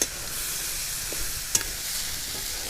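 Peanut masala of onion, tomato and spices is stirred and fried in a pan. Steady quiet sizzling runs underneath occasional scraping clicks of the spoon, with one sharper knock midway. No voices.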